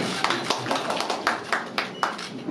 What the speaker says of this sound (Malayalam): എന്നാൽ കൈയടിച്ചു കൊടുക്കല്ലേ